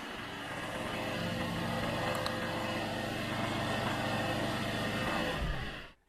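A diesel car engine held at raised revs gives off a steady, even drone that holds for several seconds and then cuts off abruptly.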